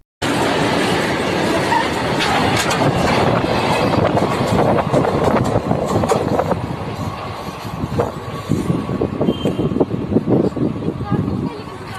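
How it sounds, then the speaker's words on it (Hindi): A train passes close by over a railway track, a loud continuous rumble with rattling clickety-clack and wheel noise that lasts the whole stretch. "एक लेडी एक पटरी पे लेटी होती है, यानी कि रेलवे ट्रैक पर लेटी होती है, और उनके ऊपर से ट्रेन चला जाता है"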